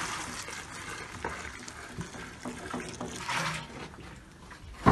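Milk is poured into a calf feeding bucket in a barnyard with a continuous close splashing, gurgling stream, rising slightly near the end.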